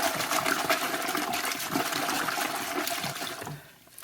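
Knitted wool being agitated by hand in a felting pot of hot water, giving a steady, continuous sloshing and swishing that stays loud and even before fading out near the end, with no talking.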